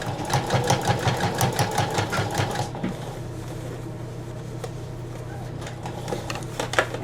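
A sewing machine runs in fast rhythmic bursts of stitching for about three seconds while sewing over a pinched fold of bunched fabric trim edged with bias tape. It then stops, leaving a low hum and faint handling noises.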